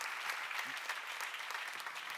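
A church congregation claps steadily at a low level, a soft continuous patter of applause filling the room with no clear voices on top.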